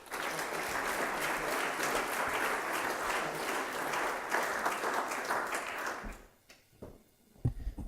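An audience at a national onshore wind energy conference applauds François de Rugy with steady, dense clapping that fades out after about six seconds, leaving a few scattered sounds.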